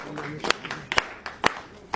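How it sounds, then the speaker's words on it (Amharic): Four or five slow, spaced hand claps ring out over a murmur of voices, too sparse to build into full applause. "እስኪ ጭብጨባ ሁላችን።"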